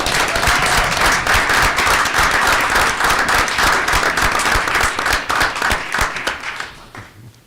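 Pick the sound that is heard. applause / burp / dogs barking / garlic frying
applause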